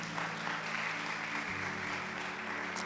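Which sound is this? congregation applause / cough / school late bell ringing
congregation applause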